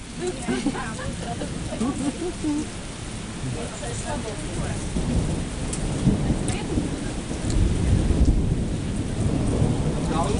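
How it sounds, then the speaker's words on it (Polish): Heavy thunderstorm with steady rain during a river canoe trip on the Drawa, a dense continuous hiss of rainfall with rolling thunder rumbling through, and faint voices in the background. "Jest właśnie burza, odpoczywamy sobie i płyniemy dalej jak przestanie padać."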